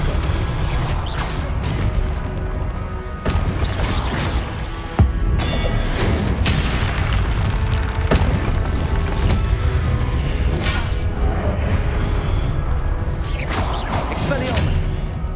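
Spell impacts and explosions crash and boom almost continuously during Hogwarts Legacy combat, with sharp cracks and thuds layered over a dense, loud mix that never settles.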